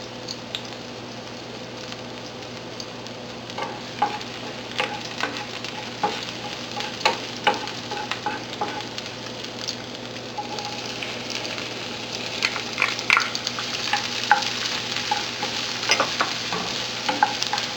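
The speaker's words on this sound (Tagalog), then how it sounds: "Mainit na tong oil natin. So, lalagyan natin tong garlic. Susunod na natin dito yung onion." Garlic and onion sizzle in hot oil for pork binagoongan, a steady frying hiss broken by repeated stirring scrapes and clinks of a utensil against the pan, with no talking.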